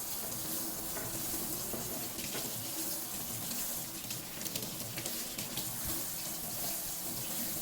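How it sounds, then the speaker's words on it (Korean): Tap water runs steadily into a sink as carrots are washed for japchae, a continuous close rushing splash with faint shifts where the carrots pass under the stream, and no voices. "당근 씻어주시고요"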